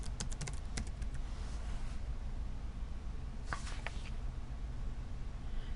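Quick bursts of computer keyboard typing while entering a server name during a failover clustering setup, close clicky keystrokes in two short runs over a steady background hiss, no talk.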